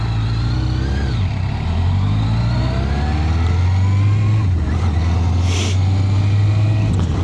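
A Suzuki GSX-R1000 motorbike rides steadily along the road with a continuous, loud engine drone that rises and falls gently through the gears, together with road and wind noise and no voices.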